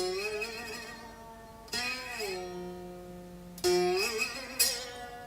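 Open strings ring out on a homemade slide guitar fitted with an added wooden bridge: three sustained plucked notes, each sharply struck and slowly decaying, the pitch sliding down in the middle.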